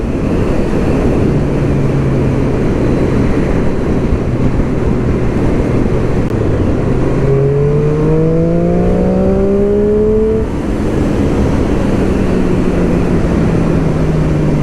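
A Triumph Street Triple 675 Rx motorcycle accelerates hard with the throttle held open, its engine note climbing through the gears with rising, stepped whines over heavy wind roar.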